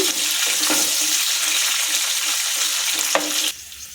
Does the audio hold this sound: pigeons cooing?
no